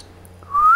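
A pet bird gives a single brief whistle, a clear rising note that starts after a quiet moment and ends abruptly, close and fairly loud.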